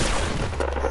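Gunfire from the video game Fortnite rings out in a quick burst of shots within a single second, loud and close.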